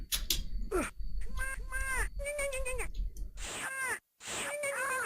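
Birds in the Beyond Dark Castle video game, played on a real Mac SE/30, let out a rapid series of harsh, crow-like caws in close succession, broken by short gaps and clicky game noises.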